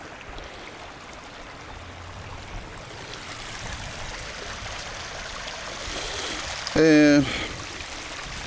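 Rainwater runoff after a heavy rainfall of more than two inches pours down a gravel-stone driveway, a continuous rushing stream that swells slightly near the end, with a brief voice and a short bump of handling noise.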